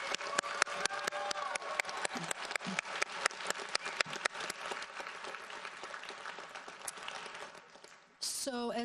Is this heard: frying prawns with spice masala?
no